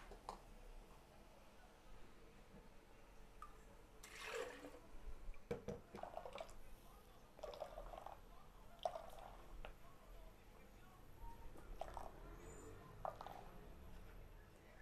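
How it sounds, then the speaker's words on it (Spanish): Blended coconut liquid being strained, with soft, faint drips and wet squishing that come and go in irregular bursts over a quiet background, no talking. "Y ya que tengo licuado, lo vamos a colar. Colamos muy bien"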